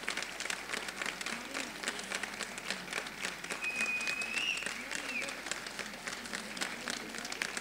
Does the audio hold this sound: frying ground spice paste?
no